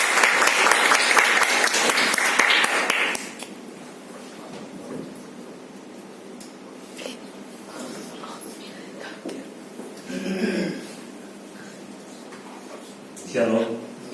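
A church congregation at a Sunday service applauding, loud dense clapping for about three seconds that cuts off sharply, followed by a quieter room where someone speaks.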